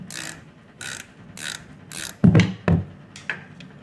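A ratchet turns on a Harley-Davidson Sportster during an oil and primary fluid change, with a few short bursts of clicking followed by louder metallic knocks, close and distinct.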